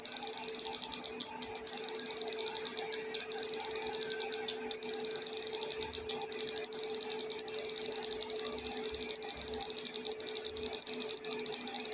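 A homemade electronic bird-sound circuit gives repeated bright, high chirping calls in quick trills, steady and fairly loud throughout, over a faint constant electronic hum with no speech.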